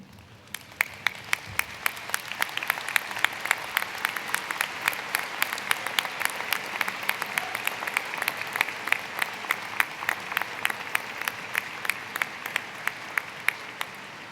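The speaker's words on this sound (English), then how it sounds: "give them a round of applause for all the support and love they've given to you over the past few years." Graduates at the 2012 Butler University commencement applaud their families, a sustained, even round of clapping from a large crowd with a few louder individual claps standing out near the microphone.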